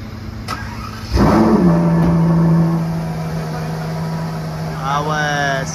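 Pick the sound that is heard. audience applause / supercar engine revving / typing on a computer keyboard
supercar engine revving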